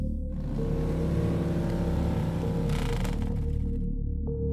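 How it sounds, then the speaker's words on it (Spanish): A motorcycle speeds past close by on a roadside at night, a loud steady engine roar holding throughout with a rising surge midway, no voices. "se escuchó el estruendo de una motocicleta avanzando a toda velocidad que pasó cerca de nosotros"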